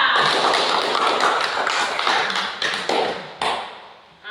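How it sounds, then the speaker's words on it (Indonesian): A classroom group clapping together in a dense, continuous patter of many hands, fairly loud and steady before thinning out and fading near the end. "Tepuk tangan untuk kita semua."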